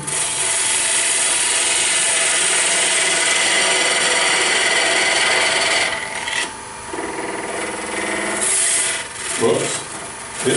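A wood lathe turns a blank for a water dipper while a bedan or skew squares it up, giving a loud continuous scraping, rushing cut that eases and breaks into uneven shorter passes near the end.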